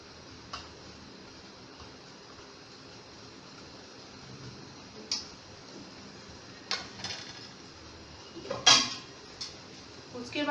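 Semolina snack balls are set one by one into a cooking pan, making faint sparse clinks and taps of utensil on metal against a quiet background, with soft speech in places.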